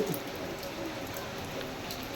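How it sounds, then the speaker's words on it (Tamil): Steady rain falls close by, a continuous hiss of drops with scattered brighter patters, heard on its own with no talking. "மழை தெரியுதா மழை சரியான மழை"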